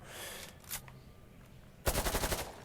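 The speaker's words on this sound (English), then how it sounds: "Let's just fire it against the wall and see what happens." Rifle fired in Insurgency Sandstorm, a single crack early on, then after a pause a rapid automatic burst of about six close, loud shots in quick succession.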